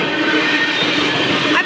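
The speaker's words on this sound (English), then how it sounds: "Train is there. You see the train going down there?" A Canadian Pacific coal train rolls past a railroad crossing on a sunny winter day, giving a sustained rumbling, rattling roar with metallic squeal tones, loud and close.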